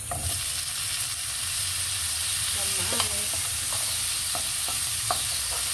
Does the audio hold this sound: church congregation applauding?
no